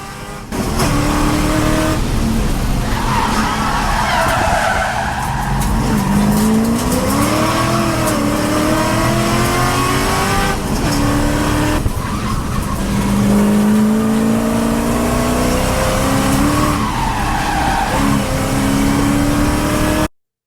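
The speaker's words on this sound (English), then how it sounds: "I'm going out for my first hot lap session of the day." A race car on a hot lap at Podium Club track, its engine loud and close as it climbs and drops through the gears, with tire squeal and skidding through the corners over about twenty seconds.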